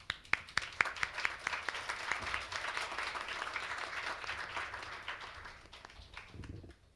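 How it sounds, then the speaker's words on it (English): Audience at a United Nations forum in Seoul breaks into applause welcoming a speaker, starting with a few sharp claps and swelling into steady, fairly distant clapping that fades out after several seconds. "Please welcome him with a round of applause."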